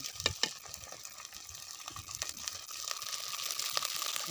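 Spices and ginger-garlic crackling and sizzling in hot oil while cooking egg biryani outdoors in a forest, a steady close fry with a few sharp pops early on.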